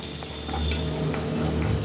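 Steady sizzling and frying of curry leaves in a pan with faint scraping and light clinks, a continuous crackle throughout with no talking.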